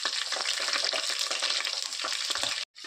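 Onions and green chillies fry in a pan, a strong, steady close sizzle with a sudden short drop to silence near the end.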